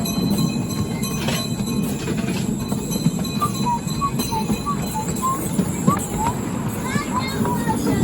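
A diesel locomotive on a miniature railway rumbles steadily past with a low drone, wheels squealing and screeching faintly along the track while people chatter nearby.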